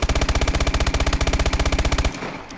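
An MP11 submachine gun in Call of Duty Advanced Warfare fires one continuous fast burst of loud, evenly spaced shots, then stops abruptly and leaves a short tail.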